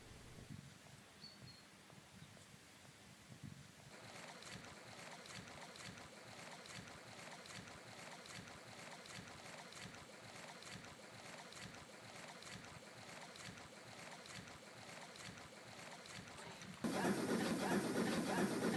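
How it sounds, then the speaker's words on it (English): The Coniston steam gondola, a steam boat on Coniston Water, passes as a steady churning rumble with wind noise on the microphone, growing fuller and louder toward the end. "Here comes the Coniston steam gondola"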